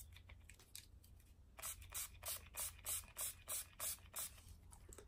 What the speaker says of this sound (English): I'm going to wet my sponge, if I can get it open, some NYX setting spray